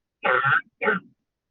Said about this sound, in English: I think that was a cough.